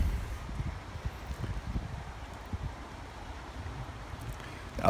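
Gusty wind buffeting outdoors in Stavanger, Norway, a low rumbling roar that swells and dips unevenly, with no voices.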